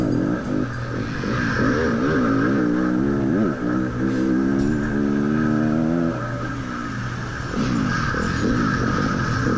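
A dirt bike engine revs loudly and continuously up close during a hare scramble race, its pitch rising and falling in quick throttle bursts.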